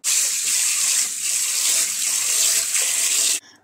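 Mung beans being rinsed under running tap water, a steady close gush filling the sink without pause, then cutting off abruptly near the end.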